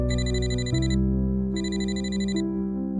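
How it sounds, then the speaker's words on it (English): A work phone rings loudly in a dusty, quiet building, two bursts of electronic ringing separated by a short pause, with a steady low drone underneath and no voices. "Then my work phone rang."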